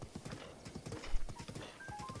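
Horse hooves clip-clopping in quick, steady rhythm from the Zelda: Breath of the Wild video game, close and fairly loud with a brief whinny-like tone near the end.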